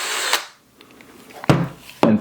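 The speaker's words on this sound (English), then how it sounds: "you can move your drill at any angle, hold on to it." Power drill fitted with a right angle adapter whirs in short, close bursts, separated by brief pauses and handling noise.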